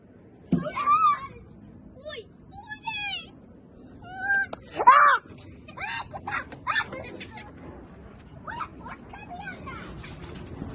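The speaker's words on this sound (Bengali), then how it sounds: "বিড়াল বিড়াল" Several short meows and yowls come in scattered bursts, close and fairly loud, with chattering and other animal-like cries mixed in over quiet background.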